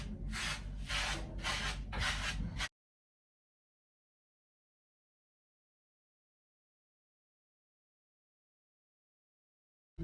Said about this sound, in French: Donc, on brosse comme ça, dans ce sens-là.